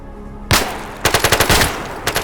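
Video game gunfire in GAMMA, a STALKER mod: one sharp shot, then a rapid burst of about six close, loud rounds, followed by two more shots after a short gap.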